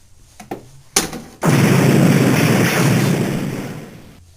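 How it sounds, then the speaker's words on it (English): A flashbang sound effect from a small toy or novelty device: a few faint clicks, then a sudden loud blast that settles into a long, roaring hiss and slowly fades over several seconds, with no talking. "Flashbangs."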